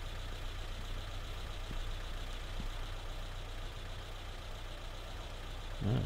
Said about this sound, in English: Well, I can still hear the car engine.